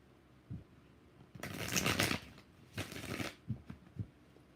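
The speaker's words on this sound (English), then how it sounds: "2 more shuffles." Tarot cards are shuffled by hand in two main bursts of riffling and rustling, each about a second long, followed by a few soft taps of the deck, close and fairly quiet.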